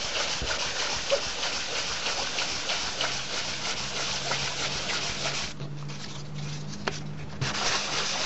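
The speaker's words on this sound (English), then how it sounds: "Just going to finish that up with a bit of 400. Just do a bit of a hand sand on that." Someone hand sands resin on a surfboard with 400 grit sandpaper, making a continuous scratchy rubbing hiss with quick back-and-forth strokes. It is close and steady throughout, with a brief softer pause near the end.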